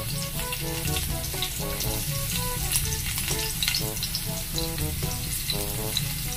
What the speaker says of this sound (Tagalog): nalaglag na yung ating bawang. Kita mo naman, kunti lang yung ating mantika